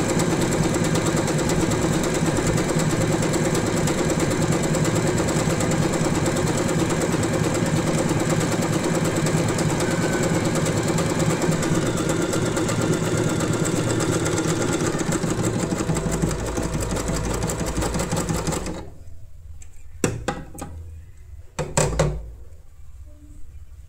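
An Usha Janome Wonder Stitch sewing machine runs in a steady rapid chatter of stitching for most of the clip, then stops, leaving only a few short isolated clicks and bumps.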